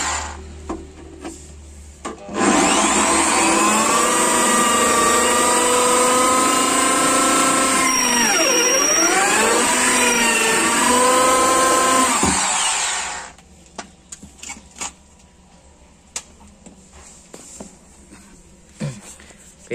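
A power drill boring holes into a wooden speaker box to fit claw nuts: after quiet handling, a loud, close, sustained whine lasts about ten seconds with a brief dip in pitch as it bites, then cuts off, followed by faint scraping and knocks.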